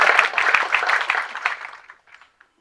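Audience applause at a Tamil film audio launch event, a dense burst of clapping that thins out and fades to scattered claps within about two seconds.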